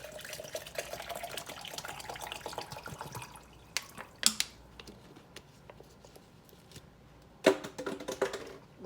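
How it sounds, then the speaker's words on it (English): Water from a bottle pours into a Ninja blender jar for Brazilian lemonade with lime, a close trickling splash for about three seconds, then a few sharp clinks and taps of handling. "Then we're going to add our 1 bottle of water."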